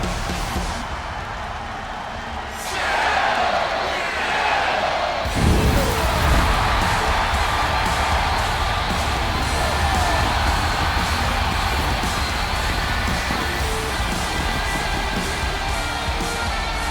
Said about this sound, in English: Oh man, the crowd is electric.